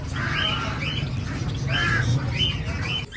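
Birds at a pet bird shop in Islamabad give repeated harsh squawking calls in bursts, close and fairly loud over a steady background hum of the shop.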